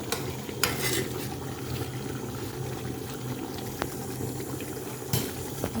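A vegetable soup with smoked fish is stirred in a pot, giving a steady bubbling, sloshing texture with a few sharper scrapes and clinks against the pot.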